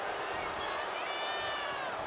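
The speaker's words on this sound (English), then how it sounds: "You guys can hear the crowd here in Perth chanting on" Arena crowd in Perth during a WWE 2K26 wrestling match, a steady dense roar of many voices with a faint rising chant pattern, loud and continuous throughout with no clear individual speech.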